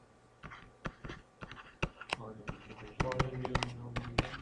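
A computer keyboard is typed on slowly in a calculus classroom, giving irregular, fairly close clicks and taps that bunch together toward the end, over faint room noise.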